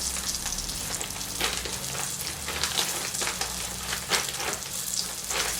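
Chicken pieces frying in a pan give a steady, close crackling sizzle with small pops throughout, even and unbroken, with no voices.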